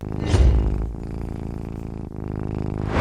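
A Mazda RX7 does a burnout in the racing game Need for Speed Unbound: a loud, continuous engine roar that surges at the start and then holds a steady, rumbling drone.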